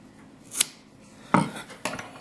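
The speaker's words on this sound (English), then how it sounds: "now I'm going to take my shears and I'm going to cut off here" Shears snipping paracord while finishing a one-color bracelet, three or four separate crisp cuts spaced over a couple of seconds, close and alone.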